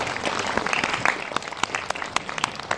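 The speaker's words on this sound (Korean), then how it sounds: "먼저 박수 부탁드릴게요." An audience at a Korean film school graduation screening Q&A claps steadily, a dense patter of hands with a few sharper claps standing out, sustained throughout.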